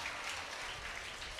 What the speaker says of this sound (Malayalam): എല്ലാവരും ഒന്ന് കൈയടിച്ച് പ്രോത്സാഹിപ്പിക്കുക